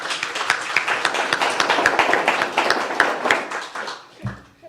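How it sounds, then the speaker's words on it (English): A round of applause for a congresswoman at an affordable housing event in downtown Linden, with brisk overlapping hand claps from a modest crowd that swell and then fade, ending with a brief low bump. "Let me give you a round of applause."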